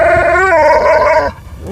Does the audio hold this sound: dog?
yes